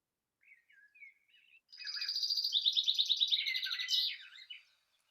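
A recorded songbird delivers a few soft introductory notes and then a long, elaborate trilled phrase that rises and falls, clear and fairly close against a silent background.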